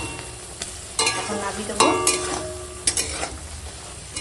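Fish roe curry with garam masala is stirred in a pan, giving a soft sizzle under sharp scrapes and metallic taps of the spoon at irregular intervals, while a voice speaks briefly.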